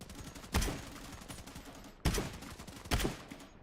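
Gunfire in the VR shooter Into the Radius 2: three sharp, loud shots spaced about a second and a half apart, each with a short echoing tail over a quiet background.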